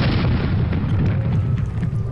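An airship cannon in Air Buccaneers fires cannonballs, a loud sustained low boom filling the whole moment, close and heavy with no talk.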